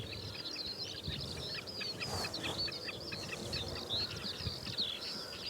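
Faint, rapid, high chipping calls of a snipe repeat in a steady series over a soft outdoor hiss, distant and without any voices.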